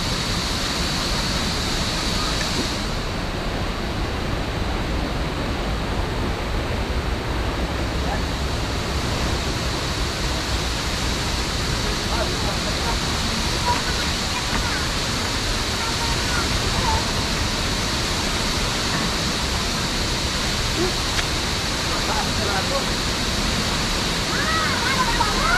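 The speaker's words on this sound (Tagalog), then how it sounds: "Dito tayo sa Palali Falls." Palali Falls in Malinao, Albay, pours in a loud, constant roar of rushing water close by, steady and unbroken for the whole stretch, with voices faintly under it.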